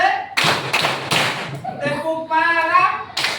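Children in a primary school classroom clap in unison during a call-and-response clap chant, with several sharp group claps between bursts of a teacher's and kids' chanting voices.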